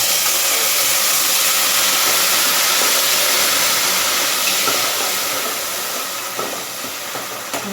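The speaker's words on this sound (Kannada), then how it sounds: "ಅದು ನೀಟಾಗಿ ಕುದೀತಾ ಇದೆ" Tamarind, curry leaves and spices bubbling in hot oil for puliyogare, making a loud, dense, continuous hiss and crackle that holds steady, then eases slightly toward the end.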